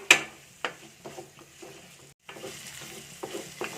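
Green chillies wilting in a pan are stirred with sharp spatula scrapes and clicks recurring about every half second over a low sizzle, with one brief silent gap midway.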